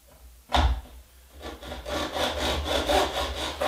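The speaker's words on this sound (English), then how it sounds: "So nice steady cutting action until I'm through." A hand saw cuts through a window screen frame held in a mitre box, starting with a sharp thump, then settling into steady, rhythmic back-and-forth rasping strokes, close and clear with no talk.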